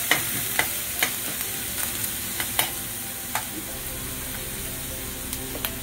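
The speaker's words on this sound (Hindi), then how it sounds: "हल्का सॉटे करेंगे।" Chopped garlic and ginger sauté lightly in a pan, giving a steady soft sizzle with occasional sharp clicks of stirring, close and alone.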